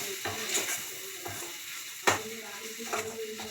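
Ginger-garlic paste is stirred in a hot frying pan while making homemade shawarma. There is close sizzling with brief scraping and clinking of a spatula against the pan over a few seconds.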